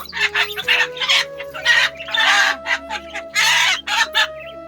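A rooster up for sale calling in several loud, drawn-out bursts close by, with a steady low hum running underneath.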